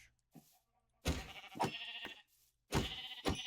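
Several Minecraft sheep bleats in quick succession, fairly loud and close, with short pauses between them.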